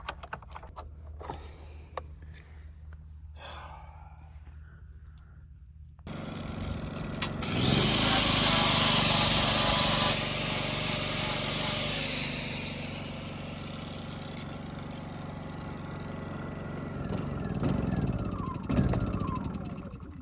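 A power tool trims steering wheel parts to fit on a Jeep JK, a loud, harsh whirring grind that starts suddenly, holds for several seconds and then tapers off, followed by fainter bursts.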